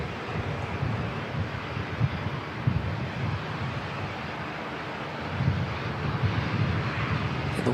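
An ATR turboprop airliner, flight NZ5640 arriving from Queenstown, approaches Christchurch Airport as a steady, broad engine roar mixed with wind buffeting on the microphone, fairly distant and continuous.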